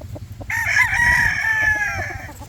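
A young gamecock (stag) tied up on a Filipino farm crows once, a loud close call lasting about two seconds with a rising start and a drawn-out tail.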